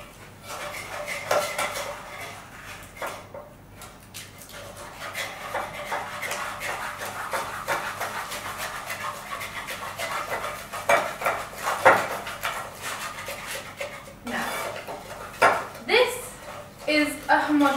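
An egg cracked into a bowl in a kitchen, then a utensil clinks and scrapes steadily against the bowl while mixing, close up, with voices talking intermittently.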